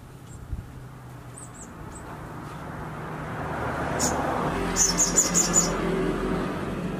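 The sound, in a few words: sogon bird singing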